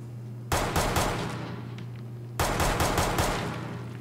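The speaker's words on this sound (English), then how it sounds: "Shoot this guy in the head." Gunfire in the video game Fallout 4: two loud bursts of rapid shots, the first near the start and the second about two seconds later, each trailing off, with a steady low hum from the game underneath.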